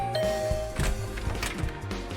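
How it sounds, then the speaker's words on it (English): A doorbell rings in the video game The Hundred Line: Last Defense Academy, a short electronic chime tone followed by a few faint clunking knocks, heard alone without speech. "I rang Gaku's doorbell."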